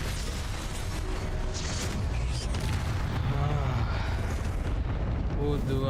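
Confringo blasting spell going off in Hogwarts Legacy, a dense rumbling roar of explosive game effects that stays loud and continuous throughout, with a person talking over it.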